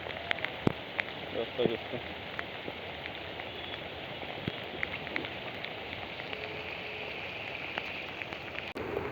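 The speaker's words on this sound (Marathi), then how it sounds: "पाऊस काय थांबायचं नाव नाही घेत." Steady light rain pattering on surfaces all day long, an even hiss with scattered drips throughout, and a brief voice in the background.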